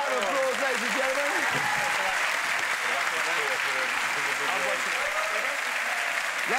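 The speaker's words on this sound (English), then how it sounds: "Give a round of applause, ladies and gentlemen." A studio audience at a televised sports comedy panel show gives sustained, steady applause, loud and dense throughout, while someone talks over it.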